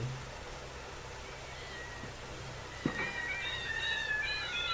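Several cats in the Minecraft video game meow in a garden setting, with short high cries clustering near the end over a steady hiss of background noise and a low hum.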